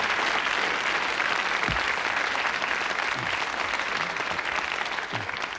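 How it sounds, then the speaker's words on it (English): A studio audience applauds steadily and fairly loudly after a game show finishes, a dense unbroken patter of clapping hands from start to end with no voices over it. "So give it a good clap."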